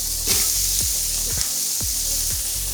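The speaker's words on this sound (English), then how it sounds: "we'll add in our canola oil, all of our carrots, our celery, the onions" Carrots, celery and onions in canola oil sizzle loudly and steadily in a preheated Ninja Foodi Possible Cooker Pro for minestrone soup, with a few soft stirring scrapes.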